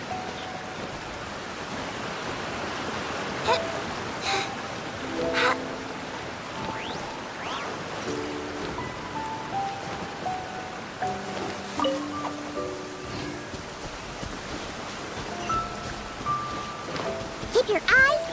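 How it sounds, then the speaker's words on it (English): Steady rain falls in Genshin Impact, a broad hiss of drops on surfaces lasting throughout, with game music tones and a speaking voice layered over it. "They're singing along to the sound of the rain."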